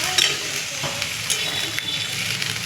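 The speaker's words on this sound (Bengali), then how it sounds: "কষানো হয়ে গেছে, এবার আমি জল দিচ্ছি।" Chicken curry sizzles steadily and loudly in a pan after water is poured in, a dense continuous crackle with faint stirring clinks throughout.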